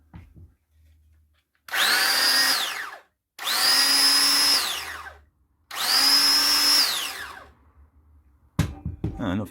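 Ryobi 18V cordless belt sander running upright on a 1.5 battery, in three separate bursts of about a second and a half each, with a steady whine and a quick spin-up and wind-down each time, alone and fairly close.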